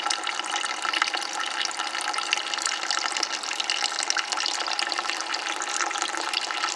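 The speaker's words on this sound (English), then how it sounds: "We just need that to really flow a lot of water." Water rushes and splashes from a hose in a steady, continuous stream, close by and fairly loud, breaking up barnacles, with no voices.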